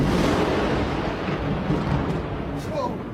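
Thunder from a lightning storm in Indonesia rolls as a loud, continuous deep rumble that fills the whole stretch, steady and close with no break.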